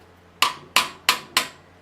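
Four sharp metal hammer strikes ring out in a shop at an even, deliberate pace, each a crisp close impact with a short decaying ring and quiet pauses between.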